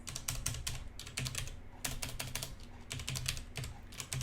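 Steady close-up typing on a computer keyboard while entering Rust program code, with quick runs of light key clicks broken by short pauses and no talking.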